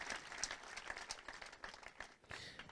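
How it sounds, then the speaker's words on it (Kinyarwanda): A church congregation claps together in a soft, continuous patter of many hands. It is faint and distant, holding steady for a few seconds with small swells. "Niba mubishimye mukome amashyi"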